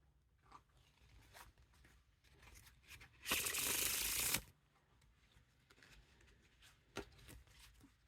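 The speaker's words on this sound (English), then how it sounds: "Now time for that giant fan of the faces." A deck of Gold Wheels playing cards by DKNG and Art of Play is spread into a wide face-up fan, giving one soft, quick riffling rush of about a second in an otherwise quiet room.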